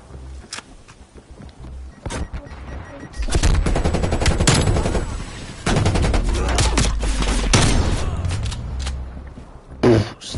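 Shotgun blasts ring out in a multiplayer shooter, with a dense stretch of repeated loud gunfire and other weapons cracking close by, sounding together with footsteps and game action.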